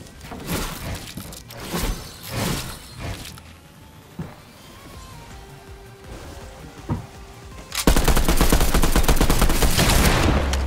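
Gunfire from a new combat assault rifle in the video game Fortnite: scattered single shots and short bursts early on, then a sustained, loud, rapid automatic stream of fire filling the final seconds.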